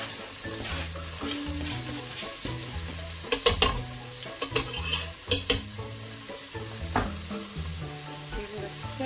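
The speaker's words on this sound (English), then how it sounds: "Give it a stir." Pepper and onion fry in hot oil for a spinach stew, a steady close sizzle running throughout, with a few sharper scraping clatters of stirring in the middle.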